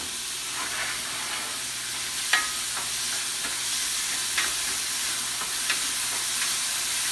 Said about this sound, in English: put our chopped up mushrooms in hot oil. And we're going to cook them till they become really soft